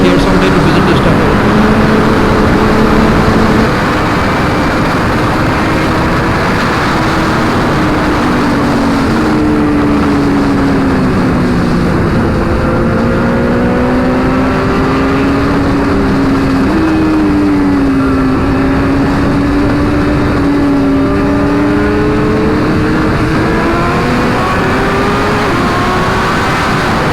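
A 2021 Kawasaki ZX10R sportbike engine drones steadily while riding, its pitch rising and falling gently with throttle over continuous loud wind and road noise, with no pauses throughout.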